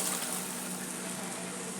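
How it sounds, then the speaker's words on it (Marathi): Cooked chickpeas are poured with their cooking water into a pan of masala, a steady watery gush that runs evenly from start to finish. "मी जे छोले शिजवले ते पाण्यासकटच घालत आहे"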